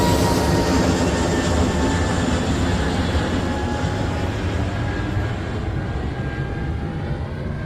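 An Air Vistara airliner moves along the runway at Nedumbassery airport, a loud, steady engine roar with a thin whine that slowly fades as it pulls away, no talk.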